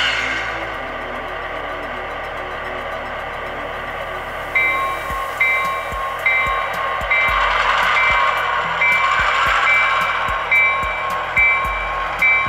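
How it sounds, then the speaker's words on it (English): Graffitied GP15-1 diesel locomotive switching cars around Huntington Beach: a steady idling engine drone, then repeated rhythmic beeps and clanking thumps as it moves, fairly close with no talk. "We'll see if we can get it done with this graffitied up locomotive here."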